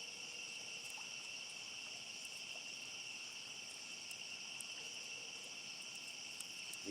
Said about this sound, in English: Can you guys hear the insects and all that? And the frogs, And frogs and all that?